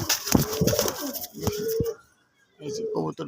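Raj Golla pigeon cooing near a person who speaks, with soft throaty coos in short bursts, a pause, then another brief coo, all close by.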